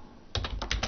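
Short burst of keystrokes on a computer keyboard while a file name is typed into a Save As box, five or six distinct close taps following a moment of silence.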